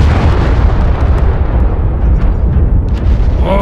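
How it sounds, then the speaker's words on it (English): Heavy, continuous explosions blast enemy buildings in the WARBOSS video game, a loud rumbling barrage of booms and bursts with no pause. "Stop blowing up those enemy buildings!"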